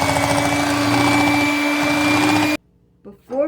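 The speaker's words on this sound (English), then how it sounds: "Then mix it up with the electric mixer" An electric mixer whirs steadily through pumpkin pie filling, a loud close motor whine that cuts off abruptly, followed by brief voice sounds.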